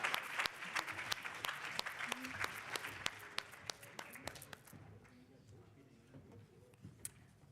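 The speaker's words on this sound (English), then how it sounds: "Let's give this team another round of applause." Audience applause at an awards ceremony, with dense clapping that fades out midway, leaving a quieter room with a few scattered claps and faint murmuring.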